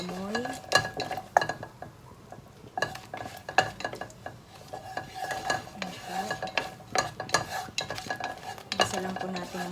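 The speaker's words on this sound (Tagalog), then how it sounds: "So, gisa lang po natin siya hanggang umamoy." Cloves, cardamom and cinnamon sauté in a pan with a soft sizzle while a spoon scrapes and clinks against the metal in irregular bursts, close up, with a brief faint voice now and then.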